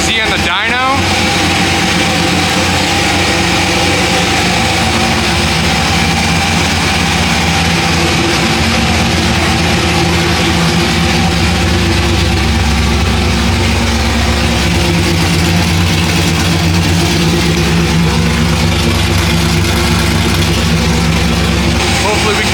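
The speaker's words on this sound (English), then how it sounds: "Got the LS 350Z on the dyno." An LS-swapped, supercharged Nissan 350Z runs on a dyno, its loud, steady engine roar filling the whole stretch with a dense low drone and no clear gaps.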